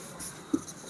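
A single short scratch of chalk or pen on a board during a Class 10 geometry lesson, faint and quick.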